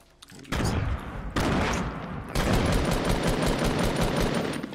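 Sustained video-game gunfire in a battle royale match, rapid overlapping automatic bursts that start abruptly and keep going loud and dense, with one short break before resuming.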